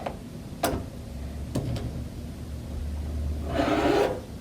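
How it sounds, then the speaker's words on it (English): Rotary cutter drawn through a fabric charm pack along a quilting ruler, with a couple of sharp taps and a short rasping cut near the end, close and quiet, no talk. "cut through my little charm pack."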